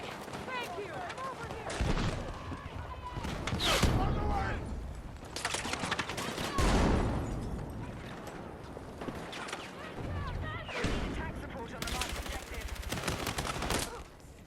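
Gunfire in the Battlefield 6 Beta video game: dense bursts of rifle and automatic fire with explosions, loud and continuous, mixed with a player talking over the battle.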